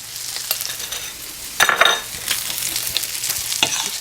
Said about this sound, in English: And give it a mix, stir it in.